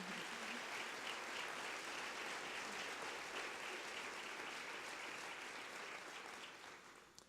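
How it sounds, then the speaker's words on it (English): Church audience at The Crossing in Columbia, Missouri clapping together in a steady, full round of applause that runs evenly for several seconds and fades out near the end. "let's clap."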